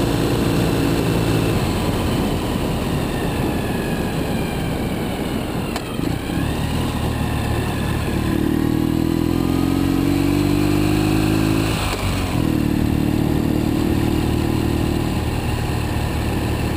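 A Ural sidecar motorcycle engine drones steadily while riding, its pitch rising and shifting through gears, with wind rushing loudly throughout.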